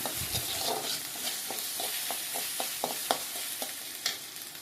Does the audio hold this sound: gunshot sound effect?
no